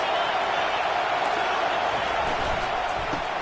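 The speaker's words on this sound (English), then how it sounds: "This crowd trying to make life miserable for this offense." Crowd noise at a football stadium forms a loud, continuous roar with cheering swells as the offense lines up.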